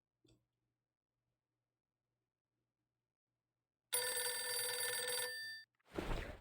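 In the video game Reverse: 1999, a telephone rings after a long stretch of silence, one sustained electronic bell burst lasting about a second and a half, followed by a short rustling noise.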